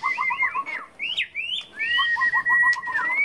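Caged magpie robins singing in a lively run of clear whistled phrases, trills and rising notes, close and fairly loud, continuous with brief pauses.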